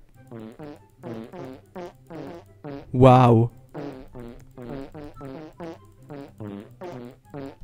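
Rapid, rhythmic fart sounds from the video game Farting Simulator fire in a steady beat-like pattern, with one louder, longer blast midway; a voice speaks a brief exclamation over them.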